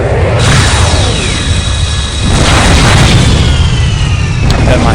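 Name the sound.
beam weapon firing in the video game Freespace 2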